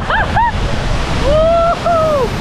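Uchan-Su waterfall near Yalta in heavy flow, a loud continuous roar of rushing water and spray with wind buffeting the microphone, while a voice exclaims over it.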